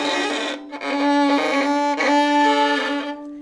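A bowed violin plays sustained notes in a slightly rough, scratchy tone, with a brief break in the bowing midway; no voices.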